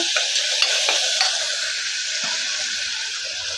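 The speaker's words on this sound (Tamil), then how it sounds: "இஞ்சி பூண்டு பச்சை வாசனை போகிற அளவுக்கு வதக்கிட்டு" Ginger and garlic sauté in a pan for a mutton bone soup, with a steady, close hiss of frying broken by a few light scrapes of stirring.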